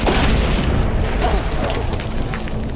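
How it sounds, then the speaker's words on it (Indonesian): A grenade explodes in a war film scene, a loud sustained boom and rumble that fills the clip, with voices mixed under the blast. "namun granat itu meledak duluan dan menewaskan Granvik"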